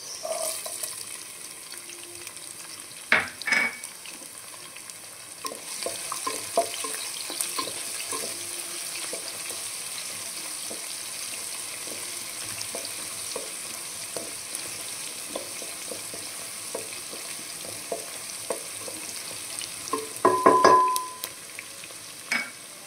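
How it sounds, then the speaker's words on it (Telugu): Onions frying in a pan for a meal maker Maggi dish, a steady low sizzle with scattered scraping stirs and clinks of a utensil, busier clatter near the end. "అన్నీ మంచిగా వేగాలన్నమాట."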